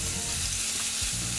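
Garlic crackles and hisses loudly in oil in a very hot pan while cooking a chicken and vegetable fry, a dense continuous sizzle close up with no voices.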